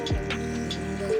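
Water is poured into a pot of boiled chickpeas for Kathiawari cholay, a short splash followed by a steady filling trickle close by.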